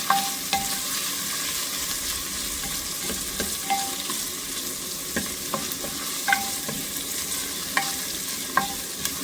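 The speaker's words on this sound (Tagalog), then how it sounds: "medyo mag-brown yung sibuyas para malasa at mabango" Onions browning in a frying pan for a Filipino soup with garlic and ginger, a steady sizzle with scattered clicks and scrapes of stirring throughout, fairly close and without voices.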